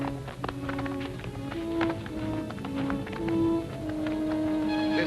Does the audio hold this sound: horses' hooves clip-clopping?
yes